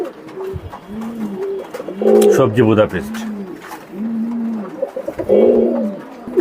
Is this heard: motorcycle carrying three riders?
no